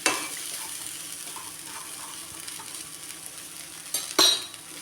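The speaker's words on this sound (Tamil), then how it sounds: "இதை நம்ம வதக்கிக்கலாம்" Okra pieces tossed with rock salt hiss softly in a hot pan, a steady low sizzle with occasional light stirring scrapes and a sharper clank of utensil against metal near the end, no voices.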